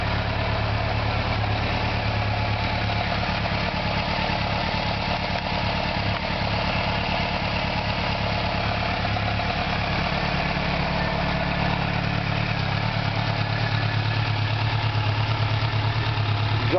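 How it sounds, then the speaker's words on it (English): A 1986 Yamaha Fazer 700 (FZX700) motorcycle engine idles steadily with a quiet exhaust, a constant low rumble close by for the whole stretch with no one talking. "Exhaust is kind of quiet,"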